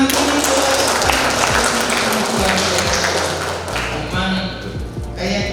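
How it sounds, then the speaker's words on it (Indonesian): An audience at a school principal performance assessment event in Ngawi applauds steadily, a dense, loud wash of clapping that runs through the whole stretch with a few dull thumps underneath, easing slightly toward the end. "kita beri tepuk tangan lagi"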